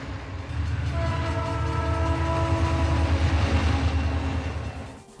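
A train crosses a railway bridge with a loud, sustained rumble. A long horn blast sounds over it, then fades as the train passes.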